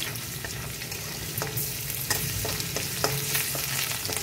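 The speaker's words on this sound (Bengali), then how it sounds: "রসুনটা ভাজা হতে একটু সময় লাগবে।" Garlic sizzling in a pan of oil: a continuous close crackling fry with intermittent stirring clicks and scrapes, no one talking.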